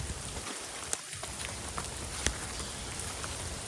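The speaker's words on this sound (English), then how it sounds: "You can probably tell it's raining pretty significantly." Heavy rain falling in a backyard garden, a dense steady hiss of drops with a few sharper ticks and splats, close and continuous with no talk.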